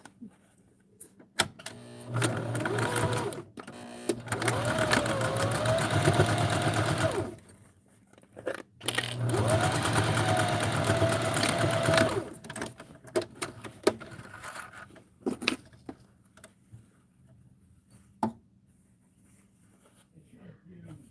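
A home sewing machine top-stitches a makeup bag in two long steady runs of motor whir, separated by pauses with handling clicks and someone talking.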